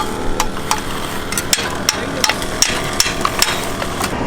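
Hammering during a concrete pour for a large ranch entrance: sharp, evenly spaced metallic strikes ring out about every half second over a loud, steady engine rumble, with no talk.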